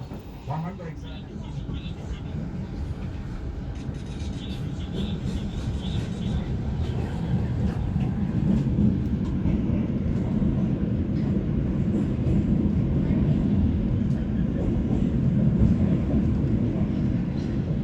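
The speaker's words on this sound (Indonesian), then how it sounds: "detik-detik kereta api penumpang pertama masuk stasiun Comal" A passenger train rolls into Comal station over the yard switches, a steady low rumble of wheels and carriages that builds and stays close and loud throughout, with faint voices in the background.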